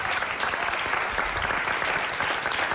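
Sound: audience applause for the musicians

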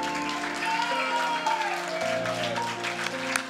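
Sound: audience applause

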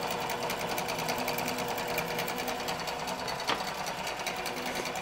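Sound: QBOT quilting machine stitching a quilt

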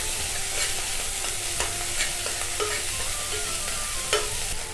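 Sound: sautéing turmeric-coated ginger in a pan

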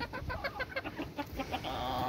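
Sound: chicken clucking

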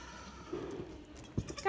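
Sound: baby goats bleating

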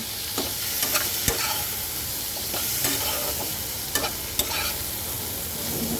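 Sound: frying and stirring turmeric and coriander powder spices

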